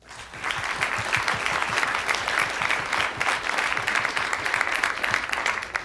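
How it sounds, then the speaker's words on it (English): Dense, steady applause from a large audience at a NASA announcement event fills the whole stretch, loud and sustained with no speech over it. "Let's give him a round of applause"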